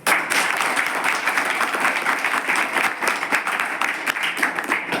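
An audience claps at a tribal hostel gathering in Gopal Nagar, Amravati, a dense, loud, sustained round of applause from many hands with no break.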